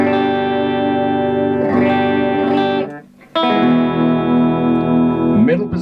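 Electric guitar chords ring out through an amplifier with light distortion, a sustained strum, a brief gap, then another chord ringing on. Firefly FFLP Classic guitar, pickup selector in middle position with both pickups, amp controls at 5, no reverb.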